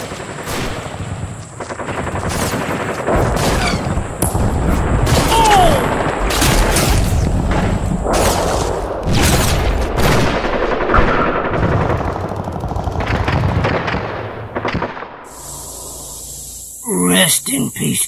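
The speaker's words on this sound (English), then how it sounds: "Taking mighty good aim. Don't want to miss the first shot." Rapid, loud bursts of gunfire and booming shots in the Army Man Wars video game, with machine-gun rattles running almost continuously and then breaking off near the end.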